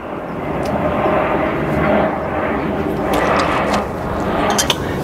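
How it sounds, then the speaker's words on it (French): An airplane passes overhead outdoors, a steady broad engine roar lasting several seconds with faint clinks scattered on top. "On va attendre que l'avion passe."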